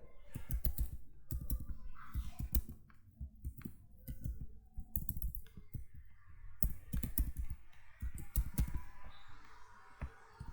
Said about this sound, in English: Okay, I am going to write email here.